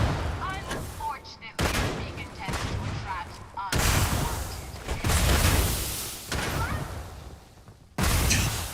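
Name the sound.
gunfire in the video game Starfield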